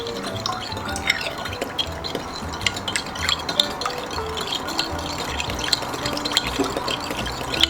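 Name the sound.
stirring sugar into a pad thai sauce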